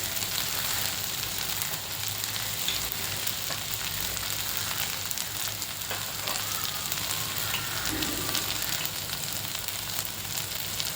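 Sautéing in a pan for Malvani-style black chana (kala chana) usal: a steady, close broadband sizzle and fry hiss runs throughout, with faint scraping stir sounds and no talking.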